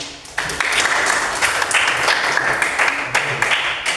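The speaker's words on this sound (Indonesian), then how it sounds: "Beri aplaus untuk." A class applauds, with a steady burst of many hands clapping that starts abruptly and continues evenly for several seconds.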